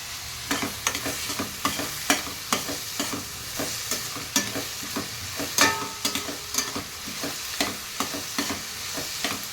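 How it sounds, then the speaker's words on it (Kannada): Onions sizzle as they fry in a pan for sagu, the recipe served with set dosa, with repeated loud scraping stirs of a spoon in an uneven rhythm and no voices. "ಗೋಲ್ಡನ್ ಕಲರ್ ಆಗೋ ತನಕ ಫ್ರೈ ಮಾಡ್ತೀನಿ."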